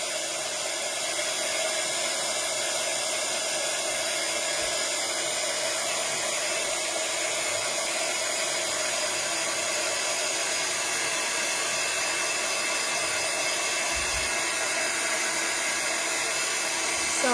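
A hair dryer blows steadily on a decorated tea box, a constant loud whooshing hiss with an even motor whine that holds unchanged for the full length, close to the microphone.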